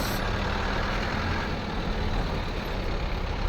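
Heavy truck engine rumbling steadily while maneuvering in reverse, a loud continuous low drone with broadband noise, no voices.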